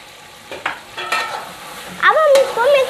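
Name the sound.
stirring yogurt and potatoes into chicken for Kabuli biryani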